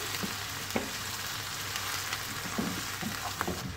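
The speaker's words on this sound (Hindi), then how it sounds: "ये सारे मसाले मैंने इसमें डाल दिए हैं और मैं इनको अच्छी तरह से भून लूँगी" Ground spice masala with coriander powder fries in a pan as a constant close sizzle, broken by occasional soft scrapes and taps of a spoon stirring, with no talking.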